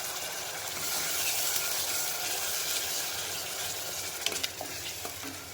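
Ground spice paste fries in a pan for an egg gravy curry, giving a steady close sizzle with occasional scraping stir sounds and light clinks and no voices.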